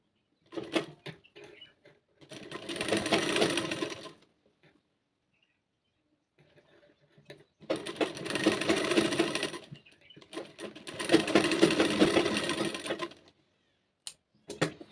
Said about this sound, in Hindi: अब हम सिलाई करेंगे।